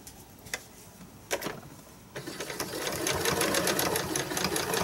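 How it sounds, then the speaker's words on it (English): A sewing machine runs in short stop-start bursts of stitching through fabric with pins in it, then settles into a steady, louder run of rapid ticking stitches. "so I am just stitching along, taking out pins as I go."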